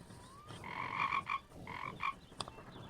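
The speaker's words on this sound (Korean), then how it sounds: "개굴 개굴 울려" A frog croaks in a few rhythmic, buzzing bursts separated by short gaps, quiet and fairly close, with a small click near the end and no talking.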